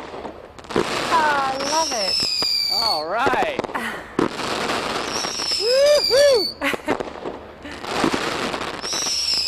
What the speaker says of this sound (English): Now that's a fireworks display.